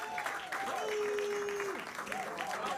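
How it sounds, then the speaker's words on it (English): Crowd at an African Nations Cup football tournament final gives a round of applause, a steady wash of clapping at a distance, with a voice talking over it at times. "Let's give him a round of applause."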